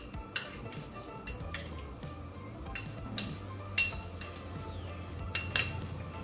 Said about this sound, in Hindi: और अच्छी तरह भूनेंगे, इसे ब्राउन होने तक हमें भूनना है।